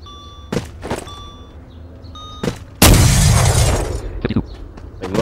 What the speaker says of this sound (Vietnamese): Đây là bom mà văng nó sẽ có tiếng nổ